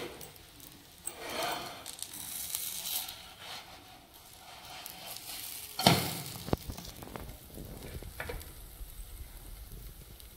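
A healthy snack made without wheat flour, maida, semolina or gram flour fries in a covered pan, giving a steady soft sizzle with occasional clatters and one sharp knock midway.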